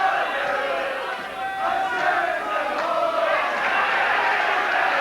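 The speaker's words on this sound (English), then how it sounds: "the crowd are singing Hood home" A boxing crowd at an amateur boxing club show in a hall sings together for boxer Donnie Hood, a loud, sustained mass chant filling the whole stretch without a break.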